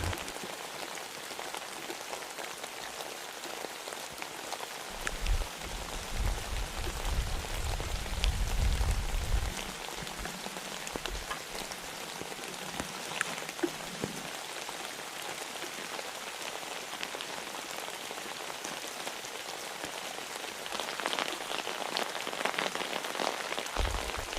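Heavy cold rain falls steadily on an open field in fog, a dense, even hiss of drops with a few heavier patters, no voices.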